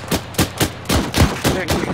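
Rapid rifle and machine-gun fire from the video game ArmA III, a burst of about seven sharp shots in a fairly even rhythm, loud and close, with no speech.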